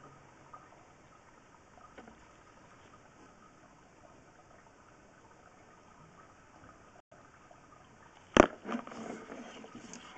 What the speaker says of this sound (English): This is what the line should look like with water running